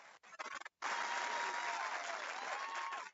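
A podcast studio audience claps in a couple of short scattered bursts, then breaks into sustained, even applause that fills the room close by.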